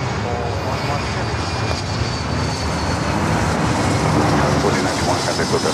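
Jet airliner taking off from runway 24 left at Los Angeles International Airport, a loud, steady engine roar holding throughout with a broad rushing tone and faint radio chatter beneath.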